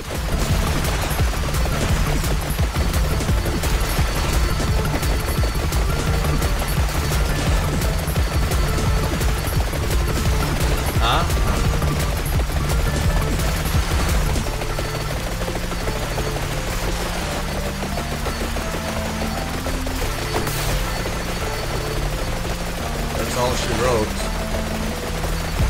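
Magic missile weapon firing repeatedly in Vampire Survivors, a relentless rapid stream of gunfire-like pops under game music that continues loudly throughout.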